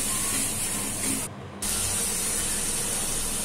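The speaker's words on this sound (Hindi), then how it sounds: "सिस्टर मेरी जी चलिया में तड़का लगा रही है" Tempering spices sizzling in hot oil in a pan while making chole bhature, a loud steady hiss that fills the clip and briefly drops away in the middle before resuming.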